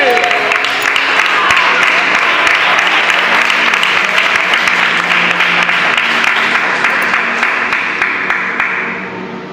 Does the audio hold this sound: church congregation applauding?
yes